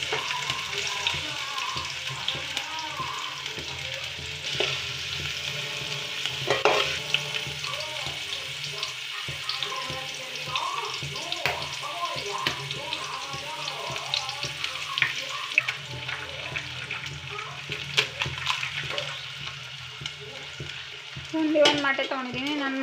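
Onion and egg frying in a home kitchen pan for egg rice, a steady close sizzle with stirring and scraping running throughout, and a brief louder burst near the end.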